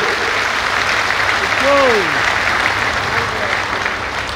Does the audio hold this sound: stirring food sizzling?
no